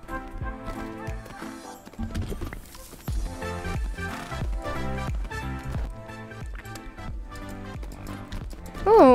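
Video-game horse hooves gallop in a rapid, rhythmic clip-clop as the horse takes show-jumping obstacles, loud and close, layered over game music.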